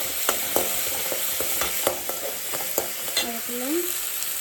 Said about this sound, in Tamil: அப்புறம் தக்காளி. இது நல்லா வதக்கணும்.